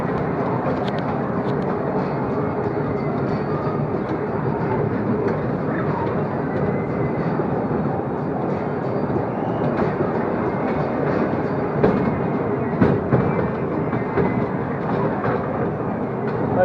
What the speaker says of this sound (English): it's just a little train.